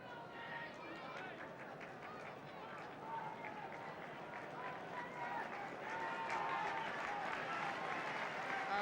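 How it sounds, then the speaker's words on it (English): A football crowd at Manchester United against Leicester City in 1971 applauds as Denis Law leaves the pitch, a broad, distant wash of clapping and crowd noise that swells gradually beneath a commentator's voice. "And the applause is because Dennis Law is going off."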